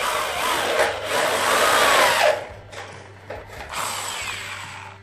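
Bolts are tightened on a light steel shoe rack frame of C75 steel studs, giving close, loud metallic ratcheting and scraping in busy bursts, pausing briefly mid-way before resuming.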